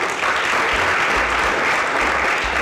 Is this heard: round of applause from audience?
yes